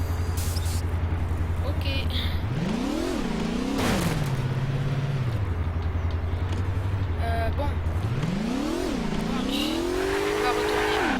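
A car drives in Garry's Mod, its engine droning steadily and then rising sharply twice in long revving swells, close and loud, with someone talking briefly over it.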